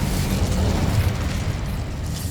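An Incendio fire spell cast in Hogwarts Legacy, a sustained, loud, roaring burst of flame with a deep rumble that stays dense and steady throughout, with no talking.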